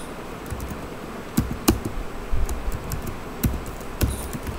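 Computer keyboard keys clack irregularly as HTML code is typed into Notepad, with a few sharper, louder strikes standing out over a soft room hiss and no voices.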